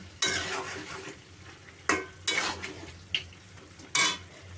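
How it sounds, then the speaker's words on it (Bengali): Catfish is stirred in a cooking pan with tomato and potato, giving five or so separate scraping strokes with a sizzle beneath, close and distinct, with no voices. "মাছগুলো দিয়ে একটু নাড়িয়ে দেবো"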